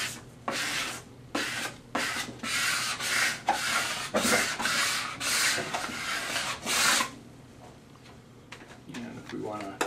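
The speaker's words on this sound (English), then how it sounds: "Just take our squeegee again, get it to where you're comfortable." Squeegee rubbed over wet vinyl lettering with slip solution, a series of close scraping swipes in repeated strokes for about seven seconds, then quieter handling noise.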